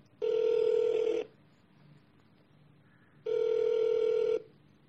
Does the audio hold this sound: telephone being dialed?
yes